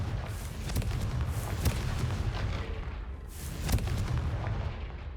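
Repeated Confringo spell blasts go off in the video game Hogwarts Legacy, two or three sharp booming explosions over a rumbling game background, with no talk.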